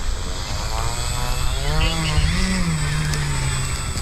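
An FMS Beaver RC model plane comes in to land into the wind, its electric propeller motor giving a steady, fairly loud whine that rises and shifts in pitch midway through.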